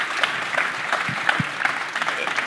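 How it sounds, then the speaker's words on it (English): A crowd at the Guinness Men's Six Nations launch event in Edinburgh applauds the six players, a steady patter of clapping that continues under a voice speaking over it. "I think we can all applaud our 6 big stars this morning."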